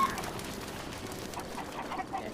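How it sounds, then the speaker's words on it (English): Birds fluttering out of burning hay in Zelda: Breath of the Wild, soft wing flaps and low cooing calls over a steady game ambience, moderately close with no talk. "The ducks are flying out."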